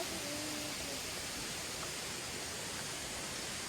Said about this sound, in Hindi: पानी का आवाज सुन लो एकदम, बहुत तेज आवाज है।